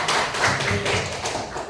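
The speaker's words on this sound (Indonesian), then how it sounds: "tepuk tangan." A classroom group claps hands in applause for volunteering students, a short burst of dense, close, steady clapping with no talk over it.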